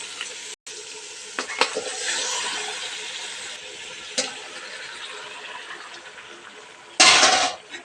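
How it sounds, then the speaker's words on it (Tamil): Chicken curry frying with onion and tomato as a spoon stirs it in the pan, a close steady sizzle with scraping strokes and a few metallic knocks against the pot, ending in a brief louder scrape. "கறியை நல்லா கிளறி விட்டுக்கலாம்."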